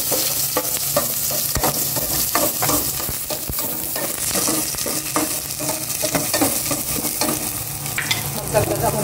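Ginger fries in olive oil and gets stirred steadily in a pan, a close, continuous sizzle broken by repeated scraping strokes of the spoon.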